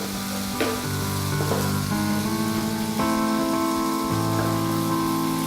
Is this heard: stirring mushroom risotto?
yes